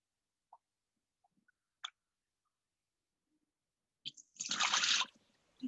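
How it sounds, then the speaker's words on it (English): Rice being washed by hand in a pot of water, then the cloudy rinse water poured out: a few faint drips and small sloshes first, then a loud splashing pour lasting about a second, with a soft trickle afterward. "running my hands through the rice to wash it, and I'm pouring it out"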